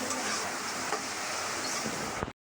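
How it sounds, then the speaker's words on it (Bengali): Chopped onions, about half a cup, frying in a pan in a home kitchen, giving a steady close sizzle with light stirring scrapes, continuous for over two seconds before stopping abruptly. "পেঁয়াজটা ভাজা ভাজা করবো"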